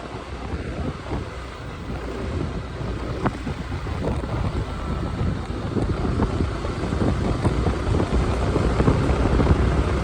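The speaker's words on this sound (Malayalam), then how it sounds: "നല്ല കാറ്റുമുണ്ട്" Strong wind in open country in Idukki buffets the microphone with a continuous low rumble that gradually grows louder over ten seconds; no talking.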